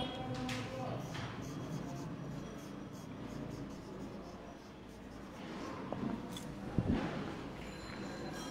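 Marker or chalk writing on a board during a Class 8 science lesson: faint scratchy strokes sit under a teacher's continuous speech, with a couple of brief taps late on.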